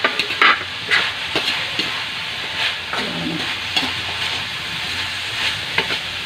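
Bean sprouts, chopped vegetables and browned pork stir-frying in a pan for a cabbage roll, a steady close sizzle and hiss broken by repeated scraping and tossing strokes of a spatula.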